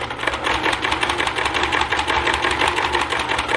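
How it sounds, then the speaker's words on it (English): A sewing machine runs a steady straight line of stitching along the edge of a fabric bag for a wheelchair or walker, its fast rhythmic motor hum and needle chatter continuous and close throughout. "I'm going to keep stitching"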